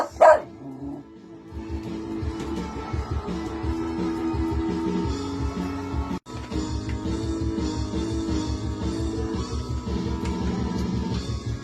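Several dogs bark repeatedly and close by in a rapid, steady rhythm, with overlapping voices sustained throughout.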